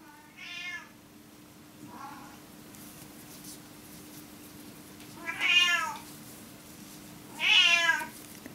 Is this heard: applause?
no